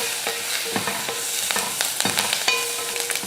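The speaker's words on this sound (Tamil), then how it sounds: "இதையும் வதக்கிடுவோம்" Crushed rasam spices are sautéed in a hot pan with a tempering of mustard, urad dal and dried red chillies. Oily frying sizzle runs throughout, broken by regular scraping stirs of a spoon across the pan, close by and with no talking.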